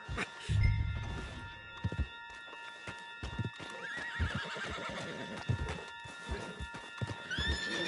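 A horse whinnies and its hooves clop along in Red Dead Redemption 2, mixed with shuffling movement and some low background music-like tones, moderately loud throughout.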